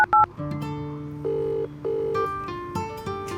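A telephone call being placed: a few short dialing beeps, then steady electronic ringback tones repeating in even pulses, clear and close with no talk over them.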